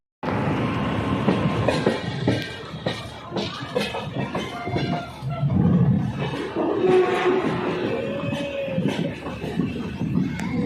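The Purnagiri Jan Shatabdi Express pulling out of Pilibhit Junction station: a continuous loud rumble and clatter of rail cars with squealing wheel tones and a rising screech, heard close and alone.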